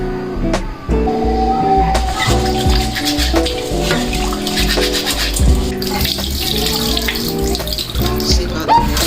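Rice being washed by hand in water with salt, with close sloshing, swishing and grainy scrubbing that continues without a break, plus a few clinks against the container.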